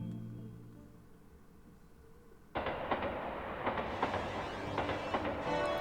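Train noise in the visual novel Saya no Uta: a quiet hum gives way abruptly to a loud, broadband rumble with rhythmic rattling clatter, steady and close, continuing to the end.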